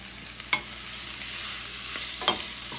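Chard for a vegan burger sizzles steadily in a frying pan, a constant hiss with two short scraping stirs, close by and with no voices.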